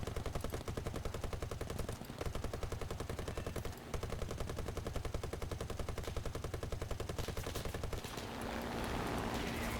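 Rapid sustained cannon fire from a Spitfire in an arcade-mode flight combat video game, a dense unbroken rattle of shots in long bursts with brief pauses, loud and close.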